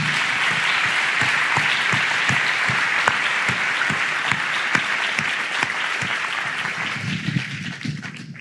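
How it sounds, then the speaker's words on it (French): An audience at a New Year's greetings event applauds, with dense, even clapping holding loud for several seconds and then thinning toward the end as a few scattered claps fade out. "On peut les applaudir."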